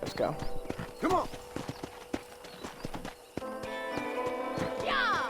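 A Hungarian half-bred war horse in a Western game clops along with steady hoofbeats and gives two loud whinnies, with someone talking over parts of it.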